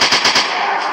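Rapid sniper rifle gunshots in a 3D dinosaur zoo hunting simulator game, four sharp loud cracks in quick succession at the start, then a dense sustained roar of gunfire noise to the end.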